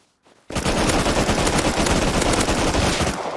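Sustained automatic gunfire in the survival game Rust, a loud, dense rattling stream of rapid shots after a faint lead-in, continuing unbroken for nearly three seconds with no talk over it.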